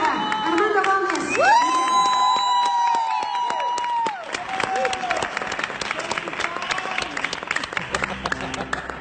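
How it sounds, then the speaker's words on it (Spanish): Loud audience applause and cheering at a songwriters' song contest, dense clapping with whoops and shouts filling the room, tapering slightly toward the end as music begins faintly. "El aplauso fuerte para Armando Gómez."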